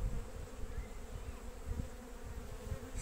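Honeybees building wax comb on a frame in a young split colony hum in a soft, continuous drone with no voices.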